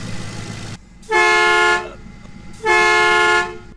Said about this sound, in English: There goes the horn.